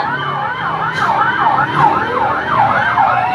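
Fire truck sirens wail in repeating rising-and-falling sweeps as engines arrive at a house fire, loud and fairly close over the rumble of road traffic, with no talking.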